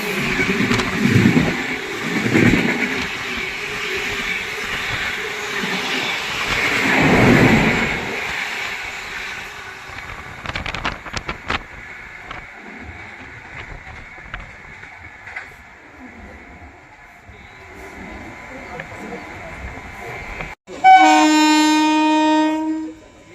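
The Avadh Express passes by on an Indian railway line, a loud rumbling roar that swells and fades with rattling wheels, followed later by a sharp, piercing horn blast near the end.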